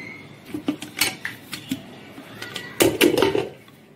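Dry-roasted coriander is crushed with ginger and green chili in a series of sharp knocks and grinding scrapes, with irregular hits clustered near the start and a denser burst toward the end.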